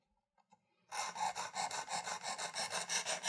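The abrasive of a Precision Adjust knife sharpener rubs on a knife blade in quick, even back-and-forth strokes, a close, quiet rasping that begins after a few faint taps.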